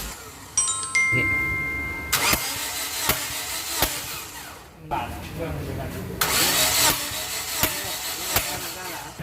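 An engine cranks over in several bursts during a compression test, with rhythmic clicking pulses separated by brief pauses, loud and close.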